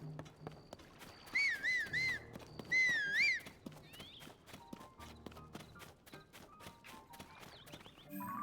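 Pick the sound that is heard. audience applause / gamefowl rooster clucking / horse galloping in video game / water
horse galloping in video game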